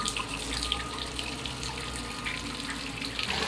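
Water sprays steadily from the tattletale outlet of a Suzuki outboard engine, a continuous hissing splash, moderately close and fairly quiet, with no talking.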